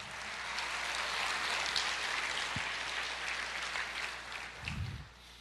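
Church congregation applauds in praise, a soft, even wash of many hands heard from a distance, with a low thump near the end.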